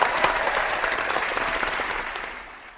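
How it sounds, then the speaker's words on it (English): A live audience gives a round of applause for a guest presenter at a holiday organizing summit, dense steady clapping from a crowd that tapers off toward the end. "So a little round of applause for Collette Shine"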